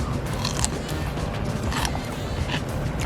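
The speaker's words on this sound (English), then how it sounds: "See if you can hear that crunch." A crunchy bite into a cold deli pickle at Canter's deli in Los Angeles, a close, loud crisp snap followed by wet crackling chews.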